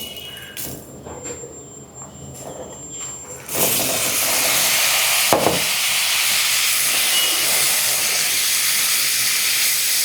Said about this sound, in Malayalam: ഇനി നമുക്കിതിലേക്ക് പനീർ ഇട്ട് കൊടുത്ത് ഫ്രൈ ചെയ്തെടുക്കാം